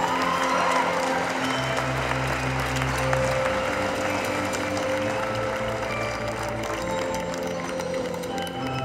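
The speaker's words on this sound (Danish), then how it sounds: "Klapsalver rettet mod Boldbro-pigerne" Sustained applause from a gymnastics crowd at a Danish TeamGym championship for young girls, steady and dense throughout with a crowd murmur underneath.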